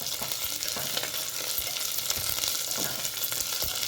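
Onions frying in oil in a pan for vegetable pulao, giving a steady, loud, close sizzle with crackling pops throughout and no talking.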